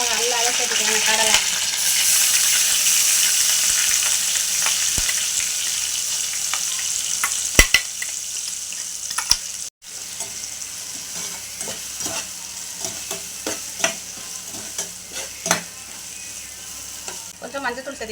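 Mustard seeds and curry leaves frying in a hot pan, a dense continuous sizzle with crackles, pops and occasional stirring clinks, close and steady for the whole stretch.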